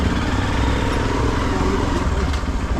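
A motorcycle engine runs close and loud at a steady, rough rumble as the bike pulls away on a road trip around Rishikesh.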